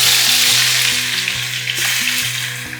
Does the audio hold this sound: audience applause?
no